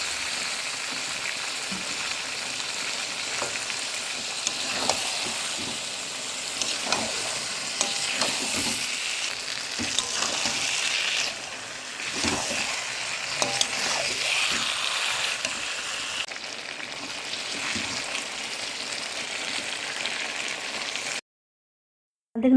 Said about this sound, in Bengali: মাংসগুলো দিয়ে সুন্দরভাবে মাংসগুলো কষাতে হবে।